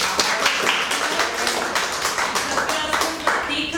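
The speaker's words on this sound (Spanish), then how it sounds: "Un aplauso a nuestra profesora." Third-grade schoolchildren clapping for their teacher in a classroom, a quick patter of small hands with distinct claps, joined by children's voices chattering underneath.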